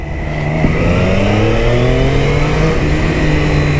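A Triumph Daytona 660 motorcycle engine revs loudly and close, its tone climbing steadily in pitch through the whole stretch with no pause, and no voices over it.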